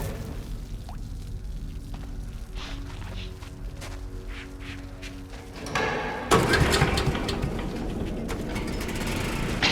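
A generator powering up for a lift in the video game Metro Last Light: low mechanical rumble that abruptly rises into a louder, dense roar partway through, then holds steady to the end. No talking.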